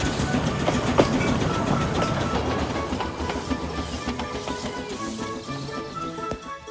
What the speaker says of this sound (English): smoothly shifting the trucks in line